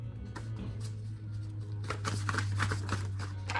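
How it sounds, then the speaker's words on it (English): Tarot cards are shuffled in quick riffling bursts, growing denser and busier in the second half, close by over a steady low hum. "Lamont, Lamonte, Spirit says shuffle some more"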